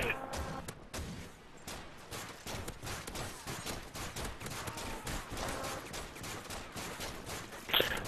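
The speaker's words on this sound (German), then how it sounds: "Der kriegt Schüsse ohne Ende!" Rapid, continuous gunfire with many shots in dense bursts, fairly distant and steady throughout, with faint voices mixed underneath.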